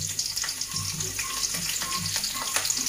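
Garlic frying in a pan for a Bangladeshi bean, potato and bottle gourd greens stir-fry, a steady close sizzle with light clatter of stirring, no talking.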